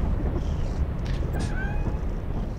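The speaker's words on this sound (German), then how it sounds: "Welche Katze schnurrt da so?" A cat in the Lethal Company video game makes a soft, steady low rumble with a brief rising meow-like chirp midway, heard alone without talk.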